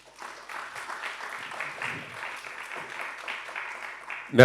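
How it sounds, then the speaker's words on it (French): An audience at a French panel event on meat and ethics applauds, a steady burst of clapping from a seated crowd lasting a few seconds before a sharp close noise at the end. "Sous vos applaudissements, mesdames, messieurs."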